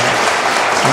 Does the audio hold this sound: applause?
yes